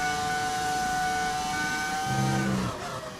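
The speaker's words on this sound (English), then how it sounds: "It's an engine mod, so it's the V10 engine." V10 engine car from a mod in F1 25, revving steadily with a loud, continuous high-pitched whine that shifts in pitch partway through and then eases slightly near the end.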